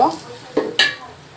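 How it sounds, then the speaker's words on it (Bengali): Whole cloves and black peppercorns stirred and fried in a pan, giving a quiet sizzle with a few sharp clinks and scrapes as the spices are moved about. "এটা আমি দিয়ে একটু ভালোভাবে নেড়ে এটা লাল করে ভেজে নিব"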